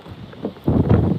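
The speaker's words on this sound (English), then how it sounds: "It's too windy." Strong wind gusts buffet the microphone outdoors at a fishing spot, a low roaring rumble that swells sharply halfway through with no talk.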